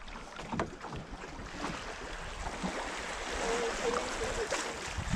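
A boat ride back to shore on the water at Isle Royale, with a steady wash of water and wind noise across the whole stretch and a few faint knocks, no one speaking.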